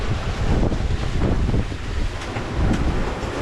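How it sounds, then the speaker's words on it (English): Strong wind buffets the microphone aboard a sailboat, loud low rumbling gusts swelling and easing with a rushing, wavelike texture and no voices. "A lot of wind, more than I would like"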